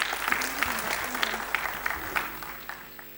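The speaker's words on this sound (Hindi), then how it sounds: "BR सिंगला जी के लिए एक बार जोरदार" An audience claps loudly for BR Singla at a formal book-release event with a spiritual leader present. Distinct hand claps ring out over a low hum and then taper into a fading tail.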